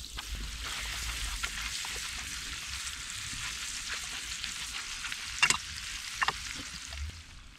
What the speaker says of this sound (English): when your minced meat is roasted,